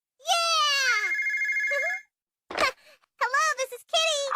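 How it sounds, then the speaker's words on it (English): A telephone gives a loud, close electronic warbling ring lasting nearly two seconds, followed after a short gap by a voice speaking. "Mama, it's the telephone."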